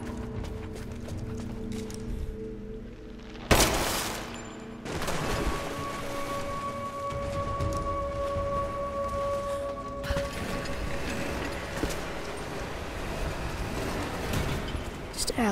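A stone water-raising mechanism in the video game Rise of the Tomb Raider grinds and clanks after a sharp impact, with a steady mechanical rumble and ratcheting layered over ambient game sound as a player occasionally talks.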